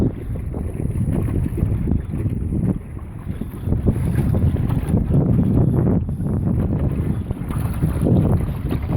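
Strong, steady wind buffets the microphone on a cold, windy day out on a boat while bream fishing, a loud low rumble with gusts over faint water sounds and no talk.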